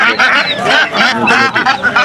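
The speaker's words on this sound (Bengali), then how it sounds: "হাঁসের বাচ্চা নিয়ে আসছে" Ducklings, including Khaki Campbells, quack in quick, loud overlapping bursts nearby at a poultry market in Tinani Bazar, Sherpur, Bangladesh, a busy chorus of short nasal calls with no pause.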